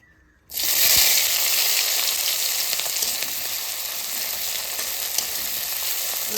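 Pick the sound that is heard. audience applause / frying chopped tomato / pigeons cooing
frying chopped tomato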